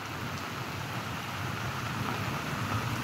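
Steady, dense rain pouring down during flooding in Pasay City, a continuous hiss of drops hitting surfaces with a low rumble underneath, heavy and unbroken throughout.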